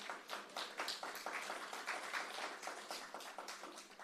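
Applause from an audience at a panel discussion, a dense and even patter of many hands clapping throughout, heard at a moderate distance with no voices over it.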